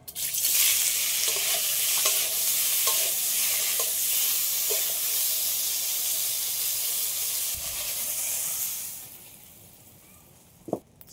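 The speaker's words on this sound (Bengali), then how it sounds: "একইভাবে পনিরগুলোও ভেজে নেব" Paneer fries in a hot pan with a loud, steady sizzle and hiss and a few scraping stirs, up close, quieting to a low bubbling before a final sharp knock.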